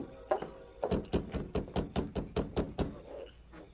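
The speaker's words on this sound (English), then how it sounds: "They reined up, dismounted, and rapped on the door." Knuckles rap on a wooden door in a quick series of about ten firm knocks that stop after a few seconds, heard up close with no talk over them.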